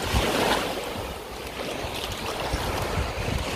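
Sea waves wash along the beach at Pescara, Italy, a continuous broadband rush of surf mixed with wind, fairly close and steady, with no talking.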